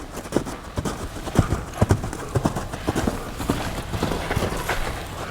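Draft horse hooves clip-clop in a steady, close rhythm over several seconds, each footfall sharp and distinct with light background noise.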